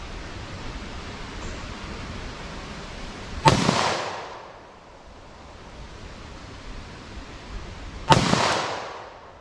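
Two sharp .327 Federal Magnum pistol shots with Speer Gold Dot ammunition crack out several seconds apart outdoors, each a loud bang trailing into a rolling echo over a steady background hiss.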